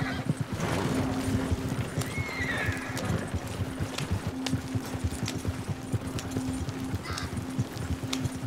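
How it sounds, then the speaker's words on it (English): Horses in the video game Red Dead Redemption 2 gallop in with rapid clip-clopping hooves and a couple of whinnies, moderately loud against outdoor game ambience with a low steady hum. "when the horses ran in"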